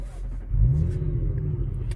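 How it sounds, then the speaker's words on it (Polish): An Audi RS5 engine starting: a short quiet moment, then a deep rumbling burst as it fires and settles into a low, steady idle, heard close by with no talking. "Silnik się oczywiście uruchomił"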